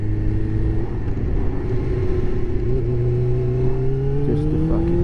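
A motorcycle accelerates hard on an open national speed limit road, its engine note climbing steadily under a loud, constant roar of wind and road rumble, close to the rider.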